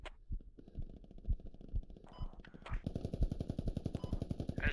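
Rapid automatic gunfire in a video game, a rattling burst that starts sparse and builds into dense continuous fire, loud and close.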